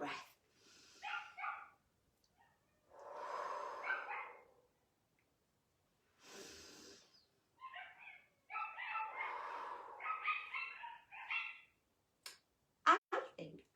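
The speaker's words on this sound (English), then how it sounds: "I think I'm going to have to let my little doggies in." Small dogs barking, yipping and whimpering at a door in separate bursts with quiet gaps between them, fairly close, and a few sharp knocks or clicks near the end.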